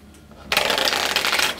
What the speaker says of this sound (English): So, we are shuffling.